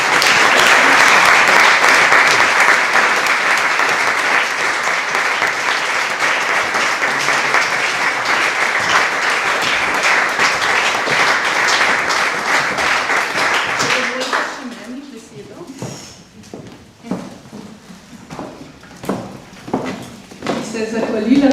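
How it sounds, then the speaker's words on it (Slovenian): Audience at a mixed choir's annual concert in a village cultural hall bursts into loud, sustained applause, which thins after about fourteen seconds into scattered claps with talk audible beneath. "In predlagam še aplavz za solista Simona Zormana."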